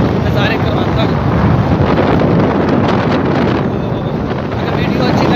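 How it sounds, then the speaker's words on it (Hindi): A motorbike is ridden along a road through desert country, heavy buffeting wind noise roaring across the microphone with the engine buried underneath, loud and continuous. "तो अभी हम बाइक पर जा रहे हैं"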